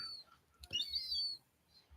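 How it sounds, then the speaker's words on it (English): Birds chirping and calling outdoors, a few faint scattered high tweets and a brief trill over quiet low background noise, no talk. "The birds are getting a little bit more aggressive."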